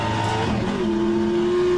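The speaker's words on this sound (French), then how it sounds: "Le son du moteur toujours aussi excellent." Race car engine in the rFactor 2 racing game with the Aussie Legends mod, revving loudly and rising in pitch as it accelerates, with a sustained tonal whine and no voices.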